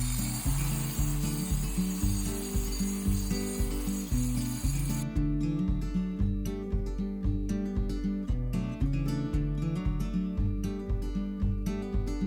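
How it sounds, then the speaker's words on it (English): An angle grinder chips at the edge of a sticky butyl roofing membrane on a home build, giving a steady, loud rhythmic grinding rasp with repeated pulsing strokes throughout, and no talking. "if I go at it with the same technique of kind of coming in at the side, and so the grinder isn't sitting on top of the butyl"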